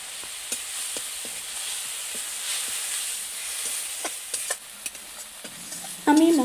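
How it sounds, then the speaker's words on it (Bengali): Masala of cumin paste and ground spices frying in a pan for a Bengali cauliflower and prawn curry, a steady close sizzle with scattered stirring scrapes and clicks throughout. "এরপর জিরা বাটা ও গুঁড়ো মশলাগুলো দিয়ে ভালো মতো কষিয়ে নেব।"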